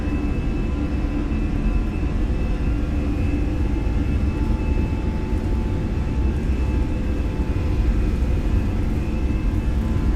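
Airbus A320 jet engines at takeoff thrust in a Fenix flight simulator, a loud, steady roar with a thin high whine that continues unbroken for the whole stretch.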